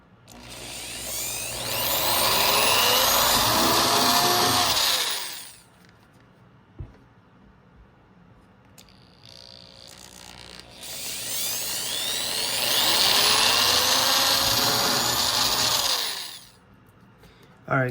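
Power drill boring a hole to mount an RC boat outboard motor, two loud sustained bursts of whirring with rising and falling pitch, separated by a quieter pause with a brief click.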